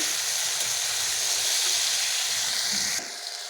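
Tomatoes fry in a pan with potatoes and poppy seed, giving a loud, steady broadband sizzle and hiss with faint stirring scrapes beneath, dropping slightly in intensity near the end.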